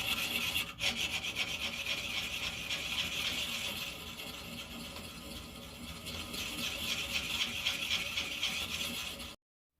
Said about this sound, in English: Little diamond tool there for finishing it off.